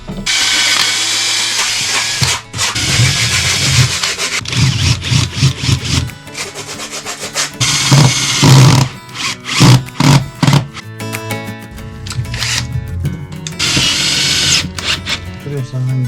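A cordless drill whirs in repeated loud bursts, starting and stopping, with people talking in Turkish over and between the runs, while plywood panelling is fitted inside a caravan.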